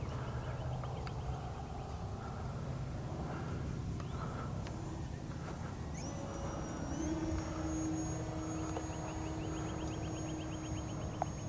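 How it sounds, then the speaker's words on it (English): A small radio-controlled Durafly FG-1 model plane's electric motor whines in the distance, its pitch rising and gliding, over a steady outdoor background hum. "That's a good flying little plane right here."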